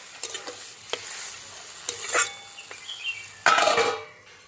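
Vegetable curry of potato, pointed gourd and pumpkin peels with lentil vadis, stirred in a pan after water goes in: sparse scraping clinks and soft bubbling, with a louder burst of stirring and sizzle near the end, no voices.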